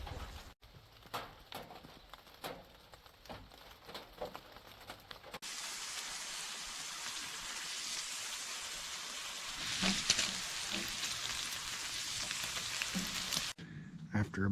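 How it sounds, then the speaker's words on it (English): Rain falls steadily on a hunting stand during an Alabama blackpowder deer season, a soft continuous hiss with scattered patters and taps, fairly faint and close, with no talk. "I'm ready for this rain to quit so I can get back in that stand"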